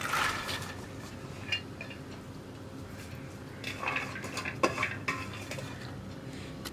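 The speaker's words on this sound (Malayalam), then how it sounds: "ഇതിൻ്റെ കൂടെ നമുക്കിനി നമ്മുടെ അച്ചിങ്ങ കട്ട് ചെയ്ത് വെച്ചിരിക്കുന്നത് ചേർത്ത് കൊടുക്കാം" Chopped long beans go into a pan with turmeric and are stirred, giving a soft sizzle under metal spoon scrapes and clinks against the pan, with a cluster of louder knocks toward the end.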